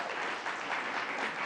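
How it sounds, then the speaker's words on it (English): Crowd applause for Danny Meyer at a Governor Hochul jobs announcement, a brief steady wash of clapping heard alone. "Let's give him a round of applause."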